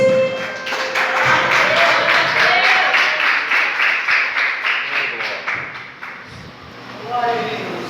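A church congregation claps together in a steady, rhythmic beat, loud and close, with voices rising over it near the end.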